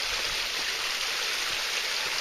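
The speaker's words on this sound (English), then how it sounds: "Nice little waterfall." A small waterfall in Wolf Pen Hollow on the Ozark Trail's Middle Fork section pours steadily, a close, even rushing hiss of falling water with no voices.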